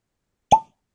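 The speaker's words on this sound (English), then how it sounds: "Very nice cork pop" A single sharp cork pop as the stopper is pulled from a bourbon bottle, a short hollow plop in otherwise silent surroundings.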